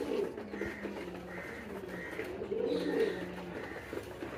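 A red fancy pigeon coos near a newly released hen: repeated low, throaty rolling calls in a loose rhythm, close by, with a soft voice murmuring faintly in the background.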